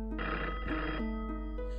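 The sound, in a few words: telephone ringing in a horror video game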